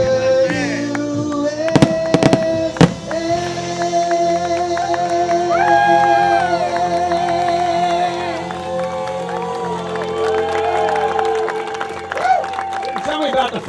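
Fireworks going off at an Independence event, with a few sharp bangs early on, then crackling bursts under crowd noise, cheering and clapping, with people talking throughout.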